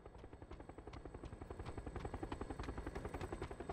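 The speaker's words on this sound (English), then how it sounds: "Can you take down the helicopter?" Helicopter in the Haven city blocks of a video game, rotor thumping in a fast, steady rhythm that grows slightly louder and closer, constant throughout.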